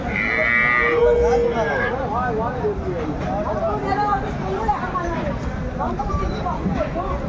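Cows and calves mooing at the Aftabganj cattle market in Dinajpur, loud drawn-out moos from several animals close by over a busy background of crowd chatter and voices.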